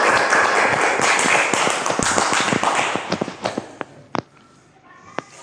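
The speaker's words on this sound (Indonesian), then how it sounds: "tepuk tangan untuk Bella" Classroom applause for a student after a social studies presentation: a burst of many hands clapping that fades into a few scattered, separate claps near the end.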